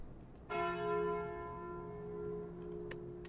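A single bell strike from the Slay the Spire video game rings out clearly and sustains with a long, slowly fading resonant tail, alone with no talk.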